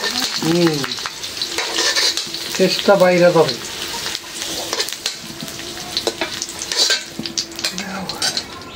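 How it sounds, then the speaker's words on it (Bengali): Large chunks of potato sizzle in hot oil while a spatula scrapes and stirs them around the pan, with clinks of utensil on metal and speech over the frying. "আলু সাইজ বড় বড় করে দিচ্ছি, ভালো করে। এটাই তো ভালো হয়েছে। একটু লাল করে ভাইজে নিচ্ছি।"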